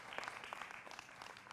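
Studio audience applause greets panel guest Maulana Ansar Raza, chairman of the Garib Nawaz Foundation, on a Hindi TV debate show; a steady, soft wash of clapping with no clear voices over it.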